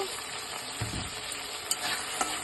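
Soaked chickpeas and peanuts sauté in spice masala in a pan, producing a steady loud sizzle with a soft thump and a couple of sharp spatula clicks.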